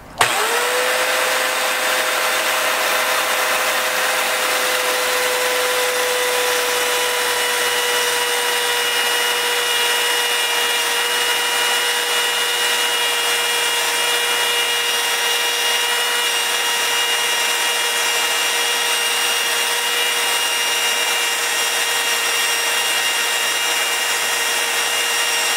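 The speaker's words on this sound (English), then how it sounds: "at this point I'm ready to try a test drilling" An electric drill mounted on a homemade horizontal boring machine runs steadily for the whole stretch, boring into scrap lumber with a loud, constant whine and no voices.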